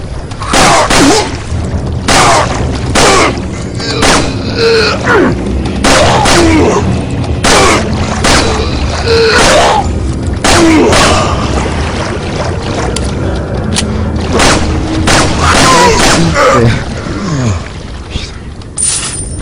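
Repeated gunfire in Resident Evil 4 in a swamp area, a steady string of sharp shots every second or so over a constant outdoor ambience with faint voices.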